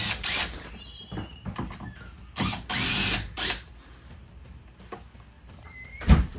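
A power drill spins out two 10mm bolts on a Ford Bronco, with several loud, close bursts of whirring and ratcheting broken by short pauses and clunks, and no talk.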